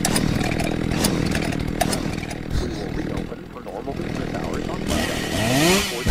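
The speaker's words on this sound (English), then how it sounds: "Get this chainsaw going here." A chainsaw runs steadily with a harsh buzzing drone that rises and falls as it is revved. Voices talk over it throughout.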